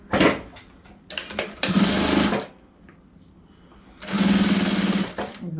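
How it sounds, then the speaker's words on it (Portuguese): An electric sewing machine stitches old denim jeans into a pot holder, running in three loud buzzing bursts separated by short quiet pauses. "A gente vai costurar, tá?"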